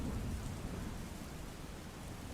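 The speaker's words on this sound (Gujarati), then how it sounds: "રાજકોટના જસ્તર શહેર અને ગ્રામ્ય વિસ્તારની અંદર ધોધમાર વરસાદ" Heavy monsoon rain pours down over the town and surrounding villages of Jasdan in Rajkot district, a dense, steady roar of rainfall that stays loud and even throughout, with no voices.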